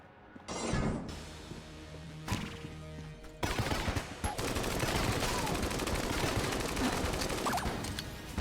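Grenade launcher fire in the game Enter the Gungeon, starting with a few bursts and then building into a loud, dense, continuous barrage of gunfire and explosions.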